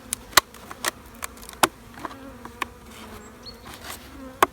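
Honeybees buzz at close range around a hive feeder, individual insects whizzing past in short, sharp bursts over a quieter steady hum of the colony.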